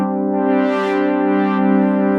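Sustained Roland FA-06 synthesizer tone as the filter cutoff is swept, a steady chord whose brightness rises and falls smoothly, loud and alone with no voices.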